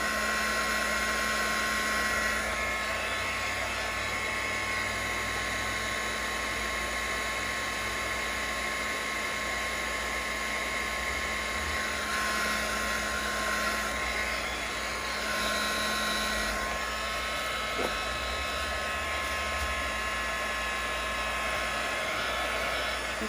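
A heat blower runs steadily, softening glue to lift a decoration from a dollar-store bunny; a continuous loud whooshing roar with a fixed hum holds unbroken from start to finish, with no voices.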